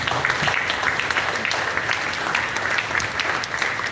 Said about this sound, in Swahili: Tumpigie Bwana Yesu makofi kwa jina jema